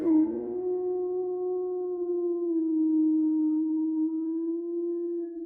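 A single long, sustained werewolf howl sound effect, holding a steady wavering pitch for about five seconds, loud and alone with no talk over it.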